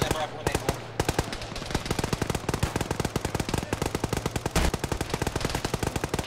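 Rapid bursts of machine gun fire ring out in a military video game, sharp cracks firing in fast rhythmic strings, loud and close, with short pauses between volleys.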